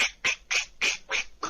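A voice imitates Donald Duck with five or six raspy, nasal squawks in a quick even rhythm, close and loud with no other sound.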